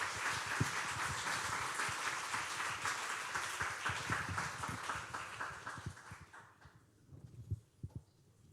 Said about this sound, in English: a warm round of applause for our students, Marta, Carolina, Inês, Sofia, and Luís.